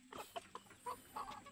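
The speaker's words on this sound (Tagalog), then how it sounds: "ito mga ka-farm yung nanay at tatay ng ating Chinese chicken" Chinese chicken hen and rooster on a Filipino egg farm cluck in short, soft, irregular bursts, close by and quiet, with no voices.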